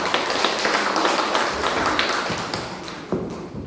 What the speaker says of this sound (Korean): 뜨거운 박수로 맞아주시면 좋겠습니다.